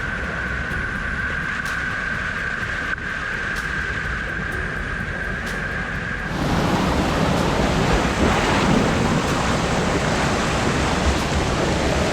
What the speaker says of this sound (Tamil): இங்கே சைடில் இங்கேருந்து தண்ணி இறங்கி வர்றது வரல இல்லை, நல்லா ஸ்பீடாகவே வருது